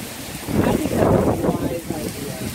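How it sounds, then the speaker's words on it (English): Heavy rain driven by wind, a dense roaring wash with gusty buffeting against the microphone, loud and continuous throughout. "This is a crazy amount of rain."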